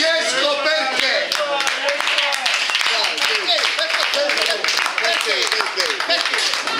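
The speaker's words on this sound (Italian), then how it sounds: "un applauso a Francesco perché?" Applause and clapping from an audience at a thirtieth-anniversary gathering of a police officers' training course, dense and continuous throughout, with voices and cheering mixed in.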